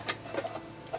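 A sewing machine stitches a fabric infinity scarf in a short, quiet burst of quick, ticking mechanical clatter, with no voices.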